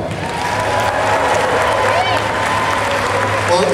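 A large audience at a SuperDogs show claps loudly and continuously, with some cheering mixed into the dense applause and voices audible throughout.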